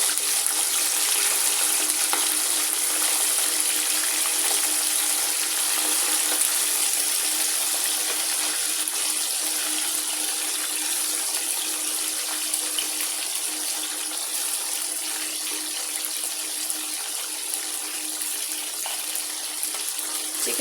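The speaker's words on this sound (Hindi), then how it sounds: "चिकन को हमने डीप फ्राई करना है।" Chicken deep-frying in a karahi of hot oil gives a loud, dense, even hiss that holds steady without letup, close and unaccompanied.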